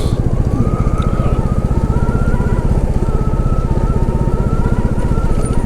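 A Royal Enfield Classic 350 motorcycle is under way, its single-cylinder engine thumping in a fast, even pulse. The sound is loud and close and stays steady throughout, with no voices over it.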